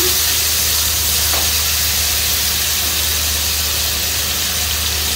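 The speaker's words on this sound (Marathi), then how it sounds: "मंद आचेवरती आपण आधी शिजवून घ्यायचे आहे तेलामध्ये" Chicken shallow frying in a little oil over a low flame, a loud continuous sizzling hiss that holds steady and close with no voices.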